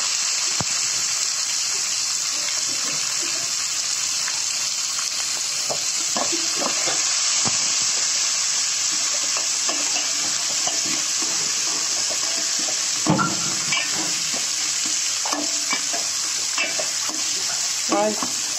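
Finely chopped ginger, green chillies and curry leaves sautéing in a pan for rava pongal, a constant close sizzle broken by repeated clinks and scrapes of stirring, with no voices.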